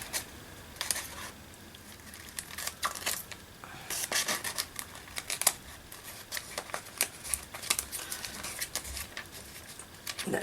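Scissors snip through paper in short, irregular bursts of crisp cuts, close up, while crafting a pocket and tuck spot for a page, with no speech.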